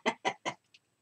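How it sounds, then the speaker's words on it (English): A chicken clucks close by in three quick, evenly spaced loud bursts, then gives a fainter fourth cluck before falling silent, with nothing else heard. "I love that chicken."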